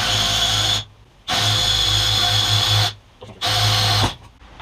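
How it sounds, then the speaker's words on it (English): A drill boring a hole into angle iron scrap, three loud whirring bursts of about a second and a half each with brief pauses between them. "Then we can drill a hole into this."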